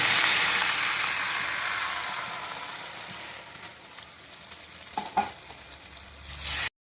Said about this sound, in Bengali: শাকটা এবার জলে ফুটছে